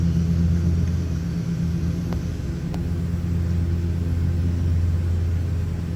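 A pump runs steadily on a Camaro being repaired after a wastegate failure, giving a loud, constant low droning hum throughout with no speech.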